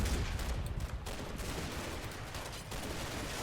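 Faint, dense crackle of rifle and machine-gun fire in the Combat Mission WWII tank combat video game, a continuous distant rattle with no talk.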